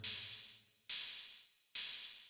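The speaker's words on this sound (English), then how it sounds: "I took a normal cymbal, which sounds kind of like this." Three bright cymbal hits ring out at an even pace, each one crashing and decaying with a shimmering hiss before the next strike.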